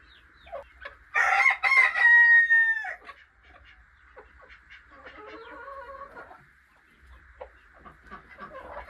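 A nearby rooster lets out one loud, drawn-out crow, then quieter clucks and calls from the flock continue, alone without talk.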